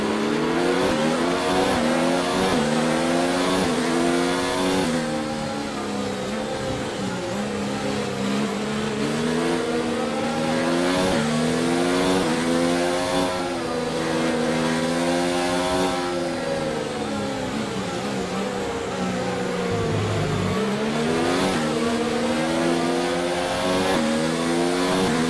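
An F1 race car engine in the game F1 2019 screams at high revs, a loud continuous whine rising and falling through gear changes over about twenty-five seconds, with brief tire squeal and no talking.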